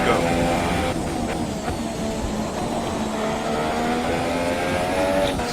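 Racing cars, a Ferrari and a Toro Rosso, driving an out lap of a racing video game at Spain, with a steady engine drone running throughout under continuous talk.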